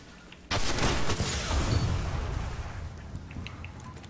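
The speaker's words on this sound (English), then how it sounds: "That was a pulse rifle he was just shooting me with." Pulse rifle fire in the Destiny video game: a sudden loud burst of rapid, overlapping gunshots that decays into a rumbling tail over several seconds, with no talking.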